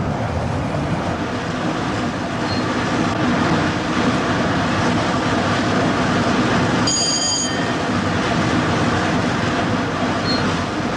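A high-speed passenger train, a 1982 British service to Glasgow, cruises at 125 miles per hour with a steady, loud, continuous rumble and rush, with a brief high whine partway through.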